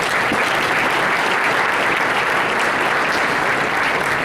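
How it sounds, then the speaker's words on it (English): Sustained applause from a large crowd, dense steady clapping filling the whole stretch without pause. "Please give him a round of applause."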